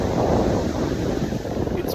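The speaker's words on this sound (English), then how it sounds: "the awesome presence of the ocean." Ocean waves and wind at the shore as a dense, steady roar of surf with heavy wind buffeting across the microphone, loud and continuous.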